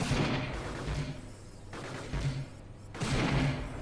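Sniper bot firing in the Gladiabots robot battle game: dense, rumbling bursts of gunfire-like blasts rolling in waves, loud and continuous with no speech.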